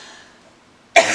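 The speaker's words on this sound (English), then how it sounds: "I will try to edit out as much of this coughing as I can" A single sharp, close cough bursts out abruptly after a near-silent pause, loud and harsh against the quiet.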